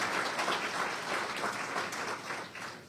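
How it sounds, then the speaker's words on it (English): Audience applause for Tyler at a press conference introducing a new head coach; sustained, dense clapping throughout, fairly even in loudness, with a slight fade near the end and no talking. "First, a round of applause for Tyler."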